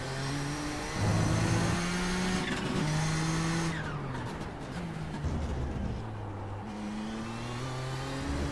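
A race car engine in the iRacing simulator revs up and down through gear changes with a gated shifter, steady mid-pitched whine rising and dropping, with brief tire squeal, loud and close.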